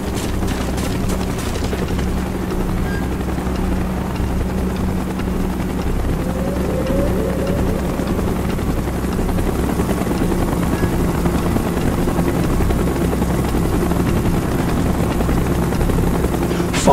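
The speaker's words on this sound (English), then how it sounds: "Chopper's inbound." Helicopter in a video game flying close by, a loud steady rotor drone with a low engine hum that holds throughout without a break.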